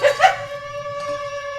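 A dog yips and whimpers twice in quick bursts, then gives a long, steady, tonal whine that holds for over a second, close and clear.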